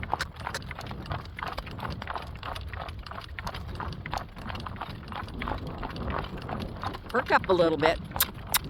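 A driven horse's hooves clip-clop steadily and close on open grazing ground, with a person talking over the rhythm.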